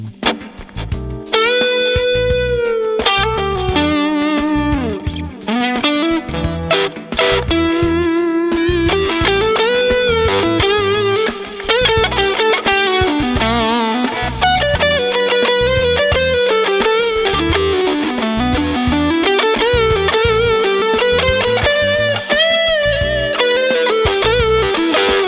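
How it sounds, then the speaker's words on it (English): Electric guitar played through a stereo reverb and delay effects pedal, a loud continuous melodic line with sustained notes and echoing repeats washing over a steady rhythmic backing, with no talking. "I didn't realize this one had stereo reverb and delay, so that's pretty cool."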